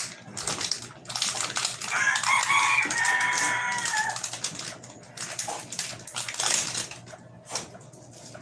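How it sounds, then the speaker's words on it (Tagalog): A rooster crows loudly nearby, one long call in the middle, while chickens cluck around it in an outdoor yard. "Ang daming ingay ng manok sa lugar nyo."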